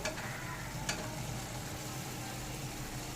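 Fried shrimp are stirred into bottle gourd curry in a hot pan, a steady close sizzle with faint scraping of the spoon and one brief clink near the start.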